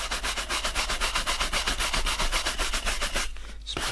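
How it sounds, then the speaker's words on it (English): Horsehair brush rubbed briskly across Oliver Sweeney snake skin dress shoes, close, fast rhythmic back-and-forth bristle strokes, about six per second, stopping briefly near the end. "Just going to get the horsehair brush."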